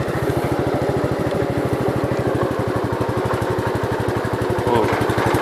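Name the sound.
1967 Gravely 430 tractor engine driving in low gear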